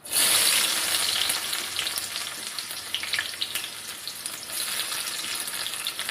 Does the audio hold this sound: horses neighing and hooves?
no